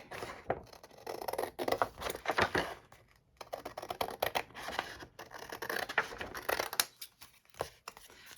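Scissors snipping through an old, fragile book sleeve, heard as a close run of quick crisp cuts and papery scratches that stop briefly around the middle before resuming, fairly quiet with no talking.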